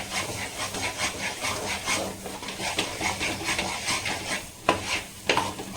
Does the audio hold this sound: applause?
no